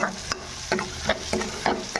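Vegetables sizzle in a pan while a utensil stirs them, giving sharp scraping strokes about every half second over a soft frying hiss.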